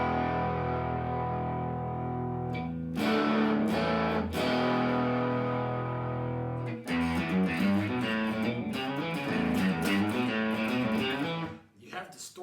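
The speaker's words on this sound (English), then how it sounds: "You have distortion." Loud, sustained electric guitar chords through an amplifier with the volume knob turned all the way up, heavily distorted and fuzzy, ringing continuously with shifting notes.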